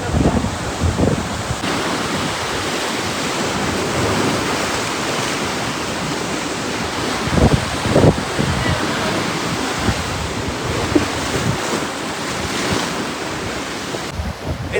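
Ocean waves break on a rocky shore near a hidden cave in Malta. Loud, continuous surf roars and washes with repeated surges, mixed with gusty wind buffeting the microphone.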